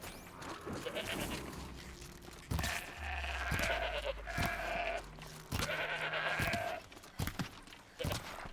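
A goat bleats in the Horizon Zero Dawn video game, a few drawn-out, wavering cries separated by pauses, set against a busy game soundscape.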